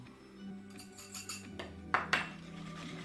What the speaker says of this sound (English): just start whisking that around to cream it up some